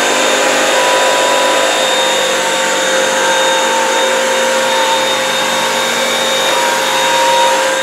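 A Bissell Crosswave wet-dry vacuum runs on a hard floor with a loud, steady, unbroken whirring drone, close by and with no voices.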